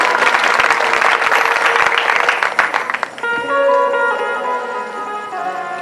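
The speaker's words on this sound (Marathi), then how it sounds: "एकदा या मंडळी करता सुद्धा जोरदार टाळ्या वाजवल्या" Loud, dense applause from a gathered audience for bhajan singers at a devotional religious gathering, lasting about three seconds before it stops abruptly and gives way to sustained harmonium-like musical tones.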